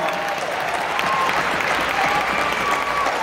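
Loud, sustained applause from a theater crowd at a concert in St. Louis, steady clapping for a backing singer with a few faint whistles riding over it.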